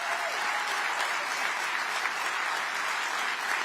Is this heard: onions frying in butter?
no